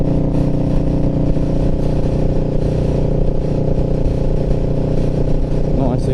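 A motorcycle engine hums steadily under light, easy throttle while riding on the road, a loud continuous drone mixed with heavy wind rush.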